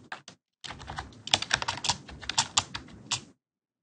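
Quick bursts of typing on a computer keyboard, close and clear, a brief pair of taps followed after a pause by a dense run of crisp keystrokes, with no voices.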